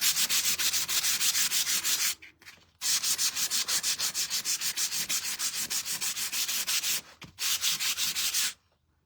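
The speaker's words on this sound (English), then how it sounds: "And you see how much I've sanded to try to get the wood to expose." Hand sanding of painted wood, with brisk rhythmic back-and-forth scrubbing strokes in fast, even bursts. Two short pauses break the run before the rubbing stops near the end.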